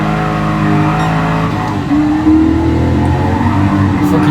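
A car drifting at the Nürburgring in Gran Turismo Sport gives a loud, sustained engine howl. The pitch holds, dips and then climbs again as the revs change through the slide.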